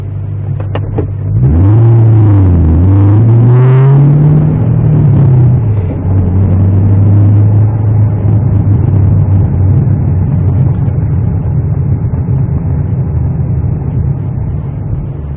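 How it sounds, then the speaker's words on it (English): Steady low engine rumble and road noise inside a car while driving, picked up by a Blueskysea B1W dashcam microphone, with a rising rev early on and a continuous hum throughout and no talking. "So I'm going to shut up for a moment so you can hear what's going on inside the car."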